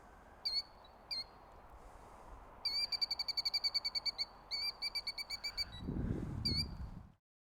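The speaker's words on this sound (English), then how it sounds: "we discovered this little bird right here and protecting her little eggs." Small bird guarding her eggs, repeating sharp high chirps: a few single calls, then quick rhythmic bursts, near and clear over a quiet outdoor background, ending with a brief low rustle.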